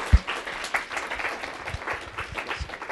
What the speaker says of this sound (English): So how about a quick round of applause before your question?